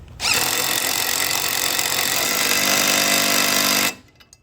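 An impact wrench tightens a tractor wheel nut in one loud, sustained rattling hammer burst of almost four seconds, close by, starting and stopping abruptly.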